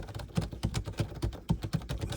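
Quick, even keystrokes on an HP 355 Compact Bluetooth Keyboard tapping in a steady rhythm, close up and moderately loud, a bit over two seconds of continuous typing.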